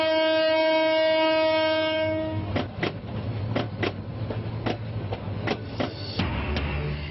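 A train horn sounds at a railway station crowded with holiday travellers, a long harmonic blast for about two seconds followed by a series of sharp rhythmic clacks as railcars pass over the track joints, with a steady low rumble beneath.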